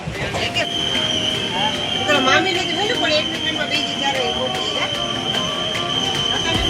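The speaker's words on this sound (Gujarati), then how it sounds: "આજો બીજી ટ્રેન જાય છે આપણી બાજુમાંથી" A train rumbles past close by at Wankaner Junction, India, with steady rolling clatter and a high metallic whine, while people talk over the noise.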